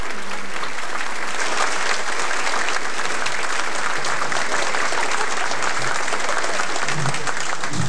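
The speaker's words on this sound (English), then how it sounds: "they're going to clap while you find your seats" Sustained applause from a large audience at a 90th birthday celebration, steady and loud for the whole stretch, with faint crowd voices mixed in underneath.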